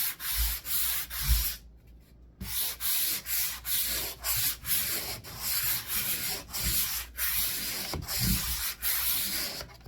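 A hand sander scrapes over dried drywall compound on a crack repair in steady back-and-forth strokes, each pass a close, rough rasping swipe with brief pauses between, and no talking over it.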